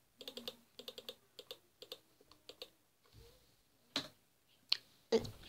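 Computer keyboard typing in quick bursts of close, crisp key clicks with short pauses, ending in a few louder isolated taps.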